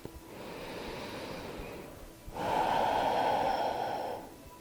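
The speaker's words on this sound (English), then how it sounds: "take another nice, really deep breath" A deep breath during a calm healing meditation: a soft, slow inhale, a brief pause, then a louder, fuller exhale, close and alone with no talking.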